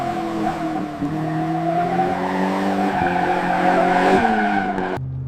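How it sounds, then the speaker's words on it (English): A deep V8 engine in a W124 Mercedes growls steadily with a loud, rumbling exhaust note, its pitch climbing and dropping as it revs, cutting off abruptly at the end. "Deep V8 growl."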